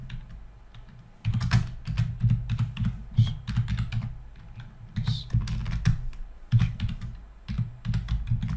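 Text typed on a computer keyboard in quick bursts of close, crisp key clicks, broken by short pauses, steady and moderately loud, with no talking.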